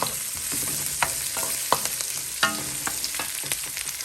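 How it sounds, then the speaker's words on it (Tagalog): Garlic, onion and vegetables for a shrimp stir-fry sizzle steadily in a pan while a utensil stirs and taps against it in irregular close knocks, with no talking. "Haluin lang natin bago natin ilagay yung shrimp."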